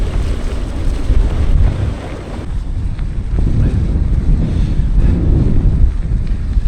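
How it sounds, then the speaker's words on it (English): Wind blusters continuously across the microphone during a night audax cycling ride near Scarborough, a loud, close, unbroken roar with slight surges and no clear speech. "I have to do my jacket up, it's rather windy just here."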